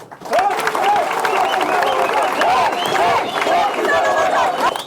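A crowd at a political speech claps and murmurs steadily while an amplified voice speaks over the noise.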